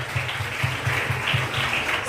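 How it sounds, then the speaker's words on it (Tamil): Applause from a church congregation at a Christmas celebration service, a steady wash of many hands clapping close by, with a faint low rhythmic thump running underneath. "எல்லாரும் நல்லா பலத்த கரகோஷங்கள்"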